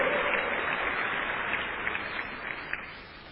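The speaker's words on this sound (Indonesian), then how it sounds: "Berikan tepuk tangan yang meriah." A church congregation applauds during a sermon, a steady wash of clapping that gradually fades, with no clear voices on top.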